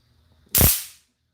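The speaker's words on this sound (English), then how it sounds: "a nice stun gun." A flashlight stun gun gives one short, sharp crackling zap that fades out within half a second and is heard alone.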